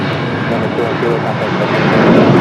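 A Boeing 737-800 jet rolling for takeoff on runway 25 right at Los Angeles airport gives a broad steady engine roar, distant and constant, under radio chatter from air traffic control.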